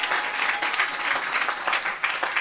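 A church congregation applauds and cheers steadily, a dense, even wash of clapping that fills the room throughout.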